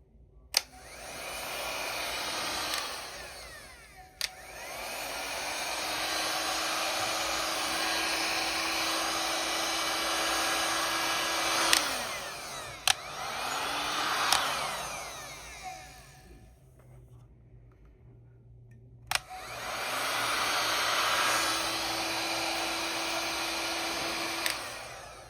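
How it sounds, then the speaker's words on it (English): Heat gun blowing hot air while working on a holiday diorama, a steady whooshing drone that runs in long stretches, drops out briefly and starts again, with a few sharp clicks as it switches on and off. "All right, so we got the heat gun."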